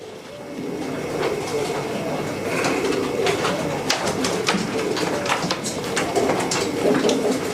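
Pigeons coo and murmur steadily in the foreground, with a busy backdrop of rustling and faint clattering throughout.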